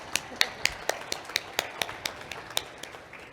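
Sparse, evenly spaced handclaps at a national gathering ring out at a steady pace of about three to four per second. They sound like only a few people clapping, fairly close and moderately loud.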